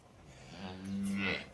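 A Jersey cow, a first-calf heifer offered at a cattle sale, gives one long, deep moo close by that swells in loudness before trailing off, with no talk over it.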